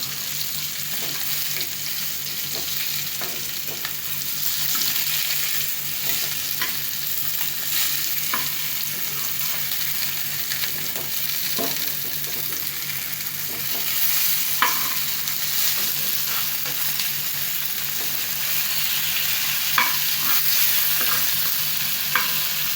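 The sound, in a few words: Sankara fish frying in a pan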